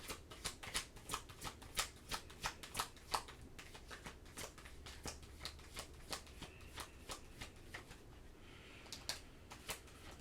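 Tarot cards are shuffled by hand in a quiet room, giving soft, rhythmic riffling and snapping in a rapid, even series, close up with no talking.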